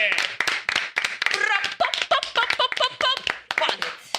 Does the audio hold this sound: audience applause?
yes